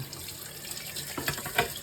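Water spraying hard from a tap to rinse a dishwasher filter in a sink, a steady hiss of running water with brief splashy bursts toward the end, close and fairly quiet.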